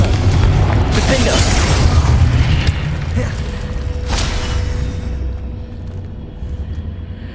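A Confringo fire spell explodes in Hogwarts Legacy, a deep booming blast with rumbling aftermath, followed by further spell bursts and mechanical clatter over a continuous game background.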